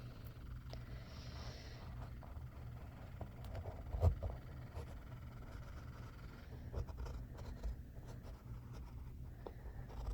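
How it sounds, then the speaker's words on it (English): A pencil traces around a hand on paper for a craft turkey headband, giving faint, intermittent scratchy strokes in a quiet room, with one brief louder knock partway through. "You're just going to trace your hand again."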